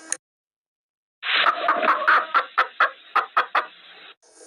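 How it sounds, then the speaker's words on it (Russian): A hen clucks close by, starting with a rough burst and then giving a quick series of sharp, separate clucks that end suddenly. "Курица кудахчет."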